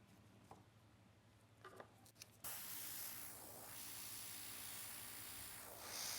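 Airbrush spraying paint onto nails: after a few faint clicks and handling noises, a steady, close airy hiss starts and runs continuously to the end.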